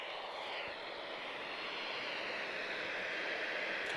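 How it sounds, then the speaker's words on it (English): A TAP Air Portugal Airbus A321neo jet arrives at Lisbon Airport from Milan, its engines making a steady, distant broadband roar that holds at an even level and rises faintly near the end. "A321 Neo from TAP. So she's arriving from Milan."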